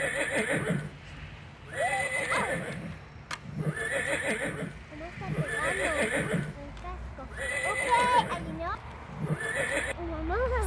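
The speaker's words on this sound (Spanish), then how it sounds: "caballo" A horse whinnies repeatedly in rising, wavering calls, with faint hoof clip-clop, while children talk and play nearby in a park.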